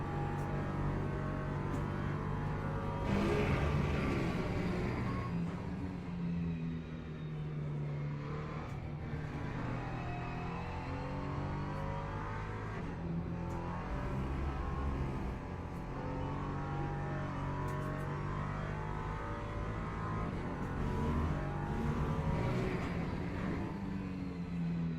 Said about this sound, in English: Don't rev it too much.